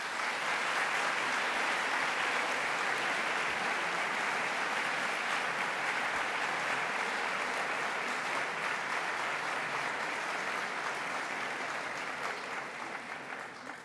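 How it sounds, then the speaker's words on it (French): Steady, dense applause from a large audience at a 2024 graduation ceremony, continuous and even throughout, easing slightly at the very end. "je vous propose, vous aussi, de les applaudir pour les remercier"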